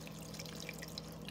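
A water and yeast mixture is poured into homemade crusty bread dough in a home kitchen, giving a quiet, close trickle with faint drips and no talking.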